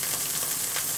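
A ribeye steak sears in a hot pan under a splatter guard, giving a steady, even sizzle and hiss of frying fat with no talking over it.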